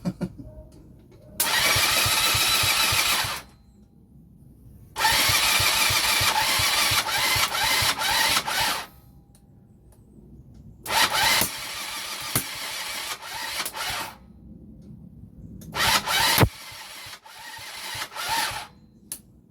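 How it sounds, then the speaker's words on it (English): A Honda Superdream motorcycle engine cranking and trying to start in repeated loud bursts separated by silences, the later attempts ragged and stuttering with sharp popping backfires, close by and with no talking. "Some meaty backfires."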